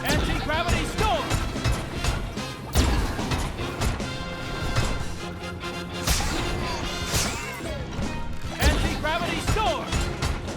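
Heavy impacts, whooshes and crashes from the Anti-Gravity Storm attack in the UFO Robot Grendizer fighting video game, hitting in quick bursts over dense game music and effects.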